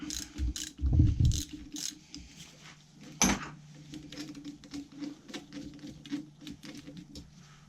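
A ratchet tool clicks in quick, faint bursts while unscrewing two small E8 screws on a Mercedes C220 W203 OM611 diesel engine. One sharp metallic clank stands out midway, and the nearby work is otherwise quiet.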